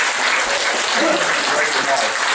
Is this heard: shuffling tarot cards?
no